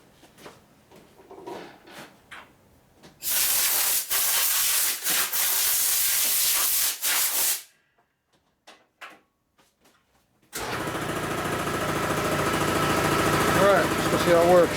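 Compressed air blasts off a custom Harley chopper part in a workshop, a loud steady hiss lasting several seconds between quieter handling noises, followed by a low engine-like drone.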